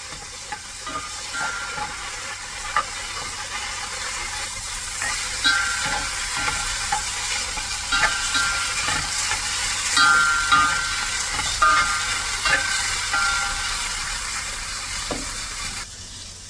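Cauliflower frying in olive oil with pink salt and turmeric, a constant bright sizzle broken by soft scraping and clicking stirs throughout.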